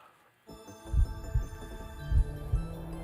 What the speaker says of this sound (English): Okay, I'm gonna make this heartbeat.